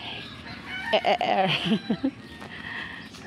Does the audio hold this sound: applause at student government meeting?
no